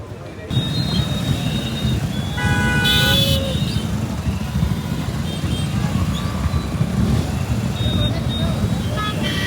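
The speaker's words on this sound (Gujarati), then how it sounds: "અહીંયા બધે ફૂલ ટ્રાફિક થઈ ગયું છે" Traffic stalls on a mountain road behind a rain-triggered landslide on the Haridwar to Sonprayag route, with a constant rumble of engines close by and several short car horn toots from nearby vehicles.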